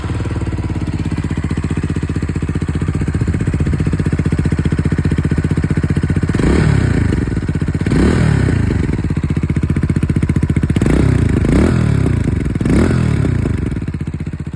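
A Herald Brat 125cc bobber motorcycle's exhaust runs at a loud, steady idle, then revs up several times in quick swells that rise and fall, close to the microphone and with no talk.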